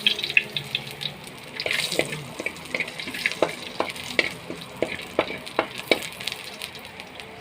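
Pork, tofu and garlic fry in a pan, the sizzle broken by repeated scraping and stirring clatters from a utensil, close and fairly loud, with no voices.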